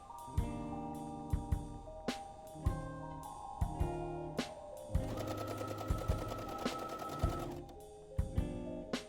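A sewing machine stitching a stretchy shirt runs in short bursts of rapid mechanical stitching, with pauses and sharp clicks between them, close and fairly loud with no speech.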